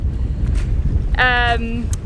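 Strong wind at an unsheltered boat anchorage buffets the microphone with a constant low, rumbling roar, and a brief tonal whine rises over it partway through.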